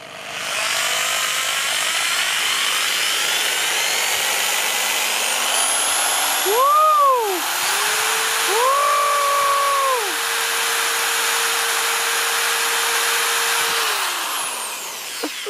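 A power drill bores a hole in a KTM supermoto motorcycle part with no center punch, a loud continuous whine that rises and dips in pitch as the bit spins up, bites and slows over about fifteen seconds.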